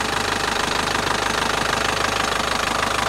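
A turbo diesel car engine runs steadily at idle, with a close, rhythmic diesel knock pulsing evenly over a constant mechanical hum, no voices.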